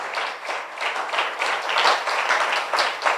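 A church congregation claps for the Lord during a Sunday morning service, a steady, dense wash of many hands that swells and holds for a few seconds with no voices.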